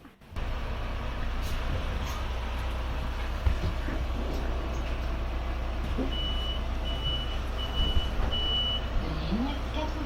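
A bus runs with a steady low engine drone while a faint series of repeated reversing beeps pulses through the middle and later part, with other vehicle rumble around it.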